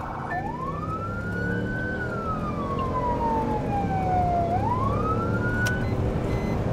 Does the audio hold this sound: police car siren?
yes